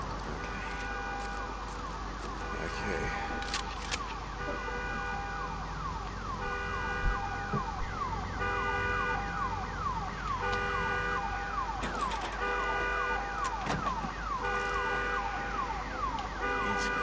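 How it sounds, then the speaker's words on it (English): Alarms blare in the post-apocalyptic video game Days Gone, a steady wailing siren-like tone with repeating sweeps, fairly loud and continuous over a dense background of game noise for the whole stretch. "Alarms are not good."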